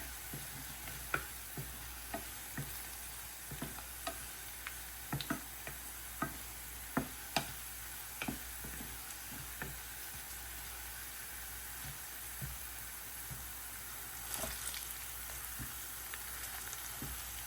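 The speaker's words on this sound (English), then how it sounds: "I'm going in with some raw jeera. So I'm going to turn the heat up on this." Raw cumin seeds frying in a pan with browned garlic and onions, giving a quiet steady sizzle broken by scattered small pops and ticks, alone without talk.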